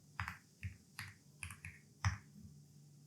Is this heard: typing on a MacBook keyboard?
yes